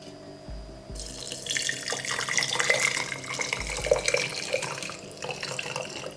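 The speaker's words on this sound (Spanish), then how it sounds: "vamos a estar añadiéndolo, el agua," Water poured from a pot just taken off the heat into a cup, a steady splashing stream that runs for several seconds, with a few faint knocks at the start and a fuller gush in the middle.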